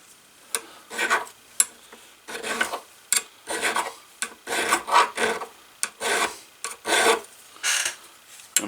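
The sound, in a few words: filing with a bigger file in leathercraft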